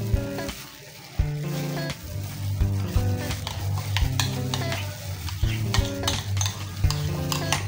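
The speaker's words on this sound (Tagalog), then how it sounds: "At imimix po natin ng todo sa ating niluto o ping-fried na pork." Onions and a mixed sauce are stirred into fried pork in a hot pan, giving close, repeated scraping and clinking of a utensil against the pan over a steady sizzle, with a tonal background running underneath.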